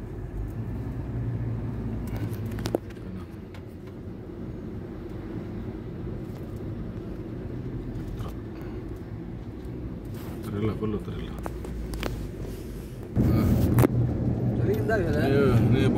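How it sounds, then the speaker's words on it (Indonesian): Trucks sit in a traffic jam on a toll road, their low engine rumble and passing vehicle noise running steadily beneath people talking throughout, with a louder swell near the end. "Truk semua nih, truk semua nih. Macet truk."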